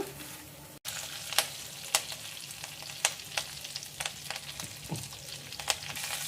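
Curry leaves fry in oil over a low flame, with a faint steady sizzle and scattered sharp pops and stirring clicks, quiet and close with no talking.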